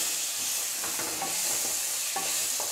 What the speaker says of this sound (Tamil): இப்போ கொஞ்ச நேரம் இதெல்லாம் நல்லா வதக்கிடுங்க.